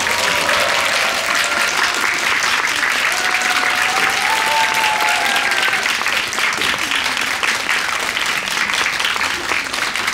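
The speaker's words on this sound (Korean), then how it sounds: "박수로 환영해 주세요." A cinema audience at a guest-visit screening of the film Happyend welcomes the director and actors with long, continuous applause, dense and even throughout, with a few voices faintly audible beneath.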